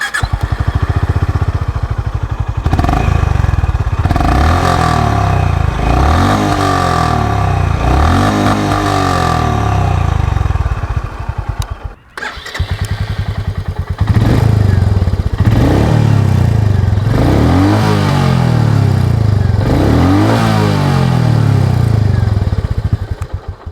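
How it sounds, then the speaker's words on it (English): Two motorcycles, a Royal Enfield Meteor and a Honda H'ness CB350, rev one after the other, with a short gap between them. Each gives loud, close, thumping exhaust notes that rise and fall in repeated blips. "test number 1 is nothing else but the exhaust note"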